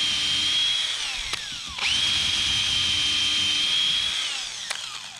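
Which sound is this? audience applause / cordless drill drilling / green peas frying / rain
cordless drill drilling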